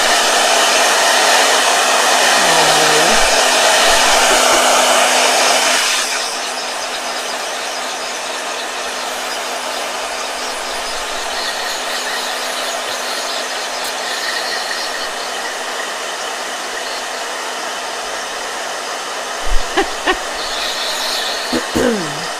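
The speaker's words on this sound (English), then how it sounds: "Blow dryer." A blow dryer dries paint in a travel journal, roaring loud and close for several seconds before dropping to a quieter, steady whir, with a few small knocks near the end.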